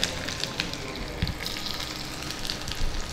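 Onion alone frying in hot oil for an oggarane tempering, a steady close sizzle with faint crackles and pops running throughout, no voices.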